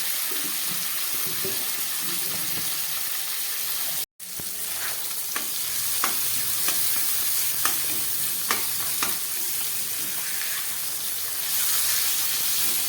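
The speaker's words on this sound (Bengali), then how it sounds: "এবারে আমি এই পেটিগুলোকে দিয়ে দিচ্ছি সর্ষের তেল দেওয়া আছে এর উপরে" Katla fish belly pieces fry in mustard oil over a spice masala, giving a steady, close sizzle with brief spattering pops, and a short drop in sound partway through.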